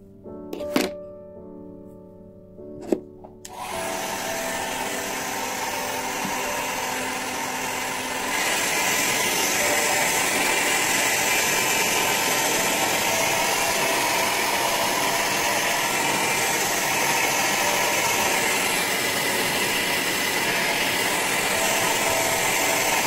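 Two knocks sound, then a hair dryer starts and blows a steady whirring airflow, growing louder partway through while drying long rebonded hair, and keeps going without pause.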